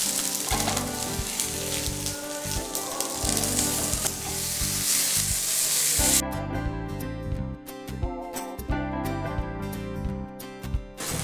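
Raw garlic and vegetables sizzling in a hot pan, a loud continuous frying hiss with stirring scrapes, easing into softer crackling partway through.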